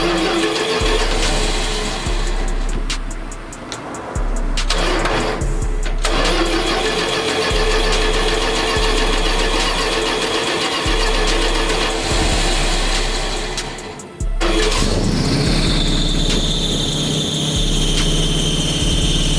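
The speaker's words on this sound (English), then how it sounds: "Now I'm finna crank it up and we're gonna go from there." A 1972 Dodge D100 pickup engine cranks with rapid, rhythmic starter churning, stalls briefly, cranks again, then catches and settles into a steady, loud idle near the end.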